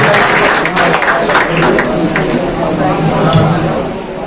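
Audience at an Urdu poetry gathering in Bhiwandi applauds to welcome poet Naveen Joshi, a dense, steady wash of clapping throughout with a voice speaking over it.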